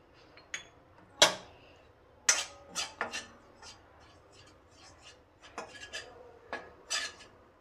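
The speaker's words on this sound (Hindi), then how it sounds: "लास्ट में हल्दी पाउडर को भी भूनते हैं और साथ में जिंजर पाउडर को भी डाल देते हैं।" Turmeric and ginger powder being stirred and roasted in a pan for gond methi laddu, heard as sparse, close metallic scrapes and clinks of a spoon against the pan, irregular and fairly quiet with pauses between strokes.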